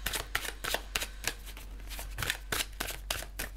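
Tarot cards being shuffled by hand, a rapid series of crisp riffling flicks and slaps in an irregular rhythm, close and fairly quiet with no talk.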